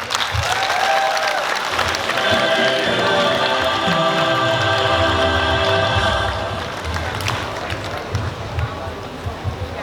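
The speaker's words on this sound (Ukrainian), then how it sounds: "Ваші оплески." Audience applause at a festival award ceremony for laureates, a steady broadband clapping that fills the room for about six seconds before easing slightly, with musical tones and a voice sounding underneath.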